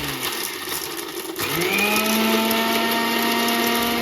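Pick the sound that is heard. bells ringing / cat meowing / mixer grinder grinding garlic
mixer grinder grinding garlic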